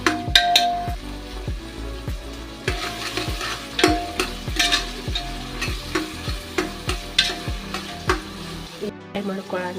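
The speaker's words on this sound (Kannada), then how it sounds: "ಫ್ರೈ ಮಾಡ್ಕೊಳ್ಳೋಣ ಎಣ್ಣೆ ಒಳಗೆ" Sliced onions frying in hot oil for chicken biryani, a steady sizzle with a spoon repeatedly scraping and stirring the pan in an even rhythm, close and fairly loud, with no talking.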